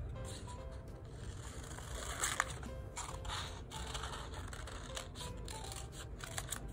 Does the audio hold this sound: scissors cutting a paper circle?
yes